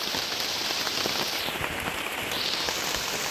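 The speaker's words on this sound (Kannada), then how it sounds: "ಸ್ನೇಹಿತರೆ, ಜೋರ ಮಳೆ ಬರ್ತಾಯಿದೆ ನೋಡಿ" Heavy rain pours steadily over an areca nut plantation, a dense, continuous hiss of drops striking leaves and surfaces close by, with no voices.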